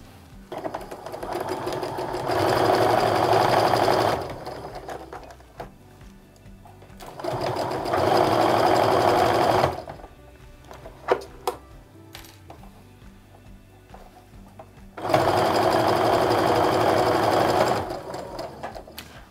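A sewing machine stitches rows of a fall maple leaf log cabin quilt top together in three steady, loud runs of several seconds each, separated by quieter pauses with small handling clicks.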